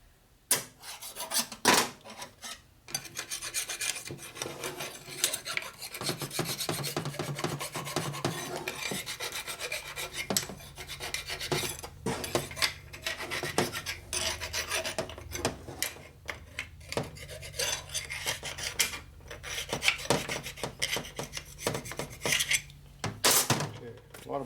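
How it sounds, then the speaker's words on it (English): A steel tool scrapes burrs off parts of a 1976 Harley-Davidson Shovelhead four-speed transmission, giving long stretches of harsh, close metallic rasping, broken by clinks and knocks of parts being handled. "It takes a lot of pressure to scrape stuff off."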